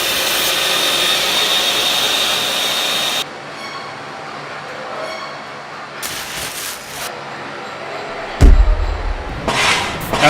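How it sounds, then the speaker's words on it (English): A wet saw cutting concrete pavers for edge trim on a paving job: a loud, steady grinding roar that stops abruptly, then briefer bursts of cutting noise follow. "For my trim work around the edges of this paving job, I use a wet saw and I cut my pavers to a 1/8 inch accuracy."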